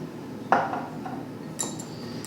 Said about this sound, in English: And then you just give it another stir.